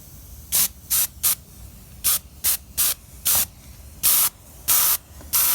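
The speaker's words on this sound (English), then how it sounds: "you're just going to mist and spray the bottom of your plane" Short bursts of aerosol spray paint hiss from a can onto the underside of a model float plane in an uneven rhythm, about a dozen quick puffs, each a sharp, close, airy release separated by brief silences.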